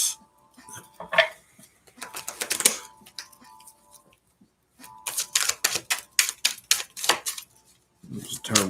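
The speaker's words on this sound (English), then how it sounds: "It was a terrible shuffle." Tarot cards shuffled during a live reading, giving bursts of crisp riffling and snapping clatter in two main runs with a pause between, close and fairly loud.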